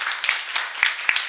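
A church congregation at a Korean New Year's Eve service applauds, with sparse, scattered claps over a steady wash of room noise.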